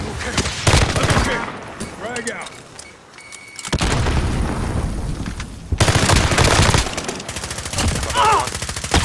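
Dense bursts of automatic gunfire and booming shots in the Pacific map Caldera of Call of Duty Vanguard, rattling loud and close in long volleys with brief lulls, while players talk over the firefight.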